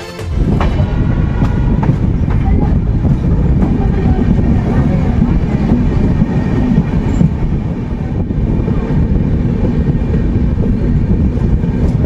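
The Kalinga Utkal Express rolls into Khurda Road junction, a loud, continuous rumble of wheels and carriages heard from on board, steady throughout with faint clatter.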